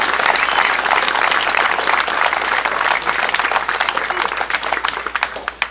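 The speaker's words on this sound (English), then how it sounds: "I'd like to give another round of applause to my cadets who came out here this morning." Dense, loud applause from an audience at a country club Memorial Day ceremony, steady clapping that slowly thins toward the end.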